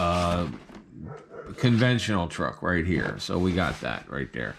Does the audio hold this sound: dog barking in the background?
yes